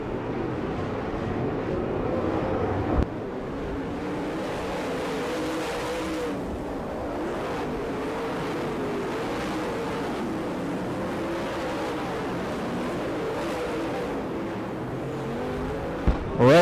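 Late model race cars in a UDTRA Hav-A-Tampa Late Model event at Gibsonton, Florida, drone and roar around the track in a continuous, loud engine wash, with a brief surge near the start and another at the very end.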